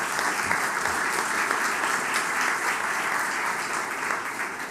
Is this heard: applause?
yes